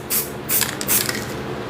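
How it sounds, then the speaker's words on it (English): Aerosol spray paint hisses onto a sponge in a few short close bursts, about three sharp sprays with brief gaps, at a live spray paint art class. "I just like to spray it directly on the sponge."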